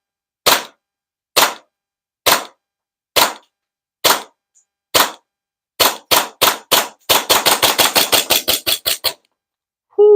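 Jag Arms airsoft pistol fired at an outdoor range: sharp snapping shots, first spaced about a second apart, then a quicker string of rapid shots, loud and close with no talking.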